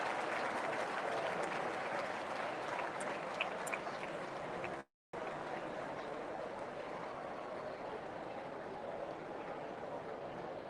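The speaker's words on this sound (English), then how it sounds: "Love to see those claps in there." Crowd applause at a castellers human tower event in Barcelona rolls on as a dense, steady wash of clapping from many people all around, briefly cutting out for a moment midway.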